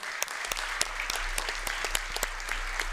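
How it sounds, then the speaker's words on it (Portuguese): Audience at a formal solemn session honoring public defenders breaks into steady applause, continuous clapping heard alone at moderate level, with sharp individual claps standing out. "Pode aplaudir vocês, vocês merecem muito aplauso"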